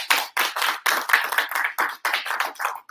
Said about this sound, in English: give them a big round of applause also.